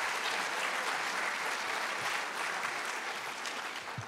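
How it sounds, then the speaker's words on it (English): A crowd claps steadily in a sustained burst of applause, dense and even throughout, with no voices standing out. "So a round of applause"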